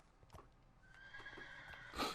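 A horse in Minecraft gives a bright, quavering whinny that ends in a louder burst, with soft hoof thuds beneath, heard alone and fairly quiet.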